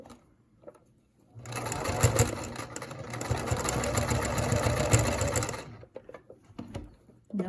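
A sewing machine stitches the pleats of a cloth surgical mask in one steady, close whirring run of about four seconds, with quiet handling sounds before and after and no talking.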